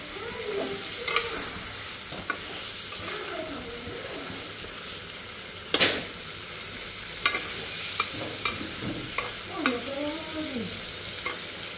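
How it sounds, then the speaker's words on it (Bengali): Pieces of meat fry in hot oil in a home kitchen, a continuous soft sizzle broken by the scrape and clink of stirring, with one sharp knock midway. "মাংস ভাজা শেষ"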